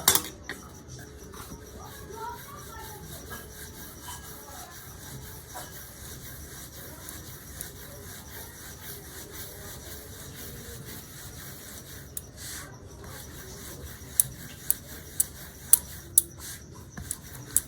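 Semolina dough balls rolled into flat rounds for kheer malai roll pitha, a soft steady rubbing and scraping of the rolling pin on the board, with a few sharp taps near the end.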